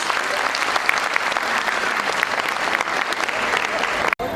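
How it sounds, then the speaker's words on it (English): Parents in an audience give a round of applause for little children after a school class presentation, steady dense clapping filling the whole few seconds with a brief dip near the end. "So parents, please encourage our little children by giving them a huge round of applause."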